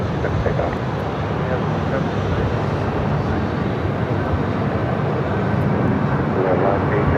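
An airliner taking off from runway 7 left at Phoenix airport makes a continuous broadband engine roar that stays loud and steady throughout, with faint radio-style speech underneath.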